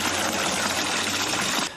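Cold artesian spring water gushes steadily into a container at a roadside tap, a close, continuous splashing rush that cuts off abruptly at the end.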